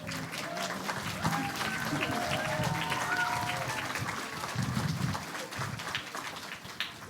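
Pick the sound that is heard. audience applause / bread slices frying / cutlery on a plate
audience applause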